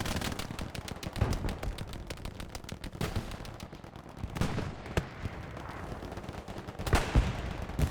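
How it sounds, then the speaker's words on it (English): Machine gun fire in the World War II shooter game Hell Let Loose, rapid bursts of gunfire and scattered shots from several weapons, loud and dense throughout with distant battle noise behind. "That's Robert trying to suppress with the MG."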